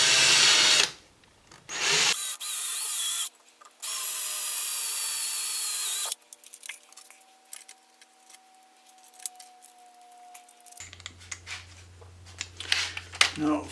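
A handheld power drill bores a 3/16-inch hole in a Morris Minor window frame, its motor whining in several loud bursts of a few seconds each, followed by quieter clattering and handling noises.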